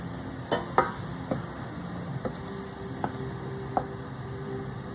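Food sizzles steadily in a pan while a utensil scrapes and knocks against it every second or so, close and moderately loud.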